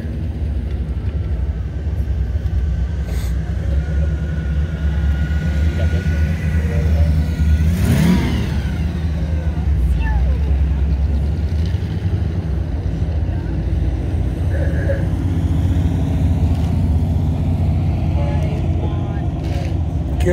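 Hot rod engines rev and roar at a small-town American event, a loud continuous growl with one sharper surge midway, while people talk nearby.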